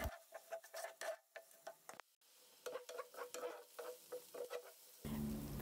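Bulgur is roasted in a pan and stirred with a rapid series of close, scraping strokes over a quiet sizzle. A brief pause comes midway, and a louder hiss joins at the end.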